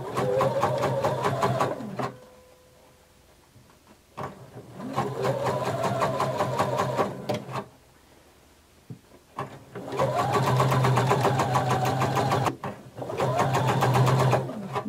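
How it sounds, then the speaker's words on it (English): A sewing machine stitches around the edge of fabric for a romper, half an inch from the split, in several long steady runs of fast mechanical whirring with brief pauses between them. "with your presser foot edge against the edge of your fabric, you're going to sew all the way around"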